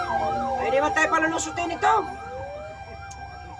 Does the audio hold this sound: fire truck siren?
yes